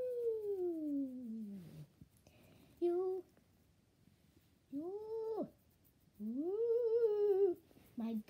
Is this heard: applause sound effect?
no